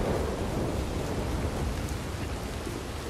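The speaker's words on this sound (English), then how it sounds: "I've seen it rain, but I don't think I've ever seen the thunder and lightning as well" Steady thunderstorm ambience from Red Dead Redemption II, heavy rain hissing continuously with low rumbling thunder underneath, dense and unbroken throughout.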